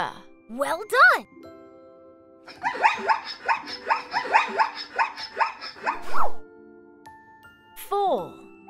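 A zebra calls with a loud series of rapid, braying barks and yelps, a couple of short squeals first, then a rhythmic run of repeated barks and a final squeal, close and clear.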